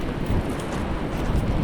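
Steady monsoon rain falls during first-rain fishing, a dense, even hiss with low rumbling texture throughout, no voices.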